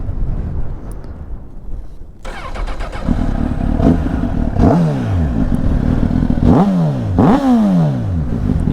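A 2007 Honda CBR 1000RR Fireblade motorcycle engine cranking and catching outdoors in wind, then settling into a loud close idle punctuated by several sharp throttle blips that rise and fall.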